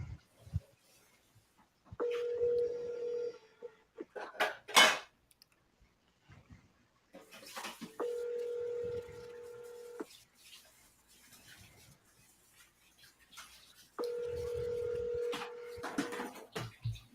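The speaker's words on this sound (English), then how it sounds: "I'm triple dialing." A telephone line gives three separate stretches of steady tone, each about two seconds, with sharp clicks and short dialing blips in between, fairly faint and with no talking.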